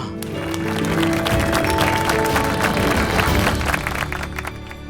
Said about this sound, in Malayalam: വലിയൊരു കൈയടി കൊടുക്കുക